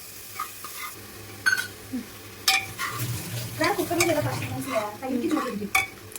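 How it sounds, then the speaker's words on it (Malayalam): Ginger garlic paste is stirred in a pan while frying for biryani, with a spoon scraping and clinking against the metal over a soft sizzle; the strokes are irregular, close and moderately loud. "എന്നിട്ട് നമുക്ക് തന്നെ ഇങ്ങനെ ഇളക്കി കൊടുക്കാം"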